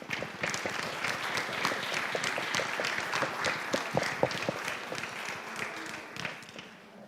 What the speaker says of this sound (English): Could we give a round of applause for our friends who have shared with us?